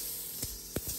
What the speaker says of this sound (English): there's that stupid loud air compressor I was talking about earlier.